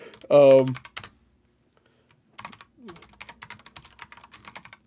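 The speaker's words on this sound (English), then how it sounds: "The mechanical keyboards sound awesome." Rapid clacking of mechanical keyboard keys, close and crisp, in irregular bursts. A short vocal sound comes first, followed by a quiet gap before the typing starts.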